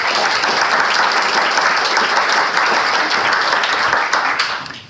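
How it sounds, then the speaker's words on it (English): Sustained audience applause from a lecture crowd, dense steady clapping at close range that holds evenly for several seconds and then begins to fade at the end. "what I'd like you to do is to please give me a round of applause"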